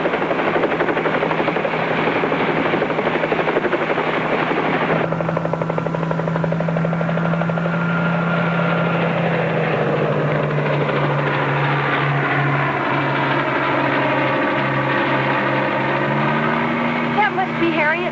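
A helicopter in flight drones steadily with a loud, continuous rotor and engine roar that holds throughout, shifting pitch slightly partway through as a voice talks over it.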